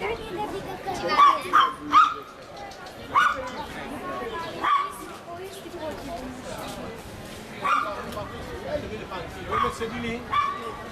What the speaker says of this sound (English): You can hear the dogs here.